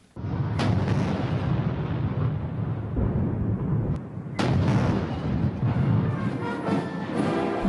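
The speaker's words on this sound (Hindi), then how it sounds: "चीन ने जापान को शिकस्त देने की 70वीं सालगिरह का जश्न 70 तोपों की सलामी के साथ शुरू किया।" A 70-gun cannon salute opens the 70th anniversary celebration of victory over Japan at Tiananmen Square, Beijing: loud, continuous booming blasts rumble and roll one into another, with a brief dip before fresh heavy reports.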